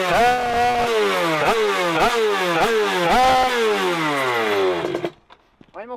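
An Aprilia 50cc motorcycle engine revs hard in repeated rising bursts, its high buzzing pitch climbing and dropping several times at close range before cutting off, followed by brief faint noises.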